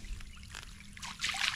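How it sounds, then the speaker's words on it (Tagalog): Stream water trickles and pours steadily nearby, with light splashing that swells toward the end; no talking. "Yung lagaslas lang tubig, kitang-kita oh."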